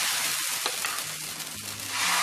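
Dosa batter on a hot pan gives a steady close hiss and sizzle, with a few faint scraping or tapping sounds mixed in and no talking.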